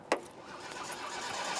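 A small remote control car with stance upgrades drives off after a brief sharp click, its electric whir building into a steady high-pitched hum that grows slightly louder over the short stretch.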